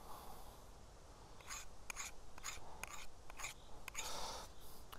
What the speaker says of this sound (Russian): По стали идет как напильник